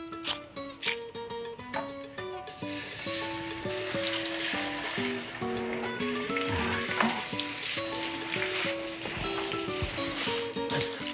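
Loin pork chops fry in a pan with a continuous, fairly loud sizzle that swells and settles, heard beneath a musical backing.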